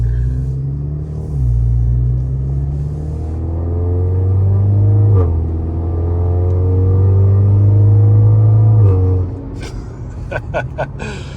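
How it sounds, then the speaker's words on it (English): A 10th-generation Honda Accord's exhaust rumbles deep and loud up close through a catless downpipe and boreless exhaust, the engine idling and swelling in pitch a few times before sharp clicks at the end. "That exhaust sound is nice. He's got a catless downpipe and a boreless exhaust setup."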